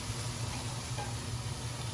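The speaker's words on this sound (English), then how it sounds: "We start stirring immediately until it is combined." Beef stroganoff mix with a spoonful of flour stirred in a hot pan, a steady soft sizzle with faint scraping, close and quiet, no voices.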